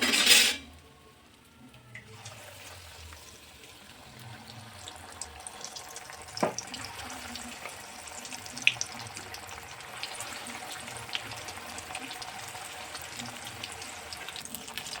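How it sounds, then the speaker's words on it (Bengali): Bhetki fish fillets fry in hot oil with a steady, close crackling sizzle that runs throughout, after a loud opening burst, with light metallic clinks from kitchen utensils now and then. "এইভাবে বাকিগুলোও ছেড়ে দেব তেলের মধ্যে।"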